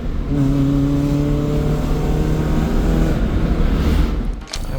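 A modified Maruti Zen Carbon on upsized tyres runs close by, its engine giving a steady, fairly loud hum with a slight rising tone before it fades and cuts off near the end.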